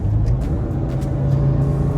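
A 2004 Porsche GT3 engine pulls hard in second gear, a loud steady droning roar heard from inside the car with a sustained low hum and no talking.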